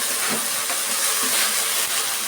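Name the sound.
mint leaves frying in pan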